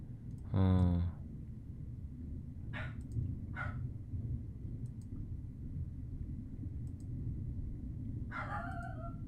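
A dog barks in a short, loud burst close by, then gives a few fainter, scattered barks over a steady low background rumble.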